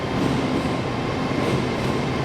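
A British Rail Class 158 diesel train at Darlington station makes a steady, close, broadband rumble with a dense rolling texture and no clear breaks throughout.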